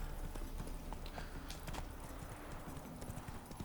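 Horse hooves clip-clopping steadily in the video game Witcher 3, a close, even walking rhythm with a faint neigh mixed into the background.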